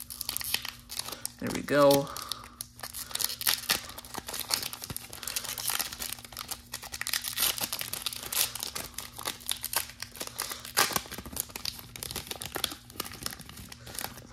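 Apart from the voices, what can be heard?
tearing open Topps Heritage baseball card packs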